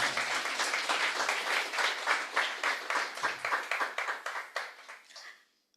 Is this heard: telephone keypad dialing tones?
no